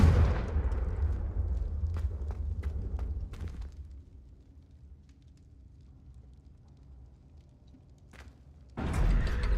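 A Confringo explosion spell in Hogwarts Legacy, a burst of fiery rumble with crackling debris that fades into quiet ambience, followed by another low boom near the end.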